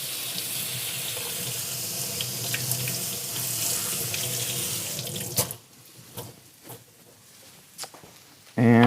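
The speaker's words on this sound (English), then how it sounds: "but I'm gonna rinse it first. I'm gonna go rinse it." Broccolini rinsed under a running kitchen tap, a steady loud rush of water into the sink for about five seconds, then the flow stops and a few soft handling clicks and knocks follow before a sudden louder noise at the end.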